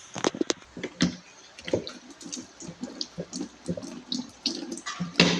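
Hands are washed under a running tap after gloves are removed and soaked in chlorine solution, in a midwifery delivery-care setting; water splashes and patters irregularly with scattered clicks and drips, moderately close.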